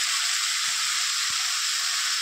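Potatoes frying with spices in a pan for Bengali muri ghonto, a fish-head and rice dish, giving a steady, bright sizzle throughout with a couple of faint soft knocks underneath.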